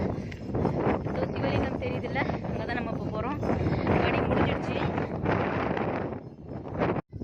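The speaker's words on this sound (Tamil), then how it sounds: "காற்று பயங்கரமாக அடிக்குது" Strong wind buffets the microphone in a steady, roaring rush for several seconds, loud and close, with a voice faintly talking underneath.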